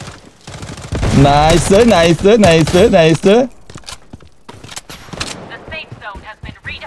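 Gunfire in the shooter game Blood Strike: rapid, clattering shots and bursts, partly under an excited voice at first, then continuing as sharper, scattered reports.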